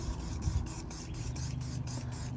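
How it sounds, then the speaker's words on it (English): An aerosol can of Scotchgard fabric protector hisses steadily onto a towel in short, even pulses, near and continuous throughout with no talking. "Okay, so you just spray it on."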